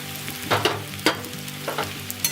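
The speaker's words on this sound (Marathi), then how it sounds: "आपण जो शाबुदाना भिजून घेतलेला होता तो आता कढाईमध्ये आपण टाकून घेऊया" Soaked sabudana fries and gets stirred in a kadhai, a close, steady sizzle broken by several distinct scraping stirs of the spoon against the pan.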